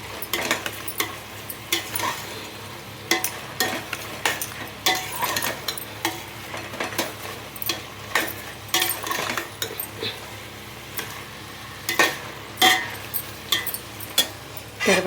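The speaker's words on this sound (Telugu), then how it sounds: "ఒక 2 నిమిషాలు తాలింపులో మంచిగా వేగనిద్దాం." A spoon clatters against a pan as a Telugu tempering fries, with intermittent scraping and metallic knocks over a soft sizzle, close and fairly quiet.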